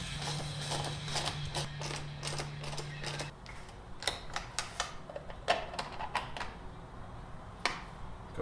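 A ratchet loosens the 8mm carburetor bolts on a Stihl M-Tronic chainsaw, clicking in rapid close bursts, with a faint steady hum early on and scattered metallic taps and clunks afterward.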